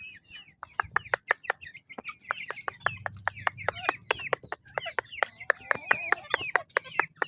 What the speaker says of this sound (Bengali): এই যে আমার মোরগ মুরগি